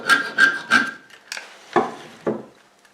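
Metal file scraping solder off a rivet on a die-cast model car: three quick rasping strokes, then a few sparser, scratchier strokes. Close and fairly crisp, with no voices.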